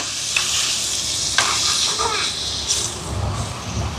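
Onions sautéing in a pan for a fenugreek curry, a close bright sizzle with a few sharp clicks of stirring scattered through, no clear talk.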